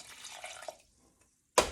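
Water poured into a mixing pot of lemon pie filling ingredients, a short close trickle that fades into quiet, then a sharp brief splash at the end.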